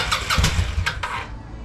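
A 1996 Kawasaki Vulcan 800 motorcycle, unstarted for 24 years, cranks and catches in a short burst of loud, close engine noise with rough bursts before settling.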